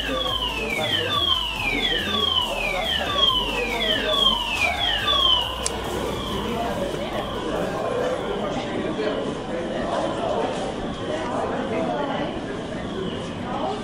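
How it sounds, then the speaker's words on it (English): A building fire alarm siren gives loud, repeated falling sweeps at first and then a steadier wail, with voices talking over it throughout. "This is a fire alarm."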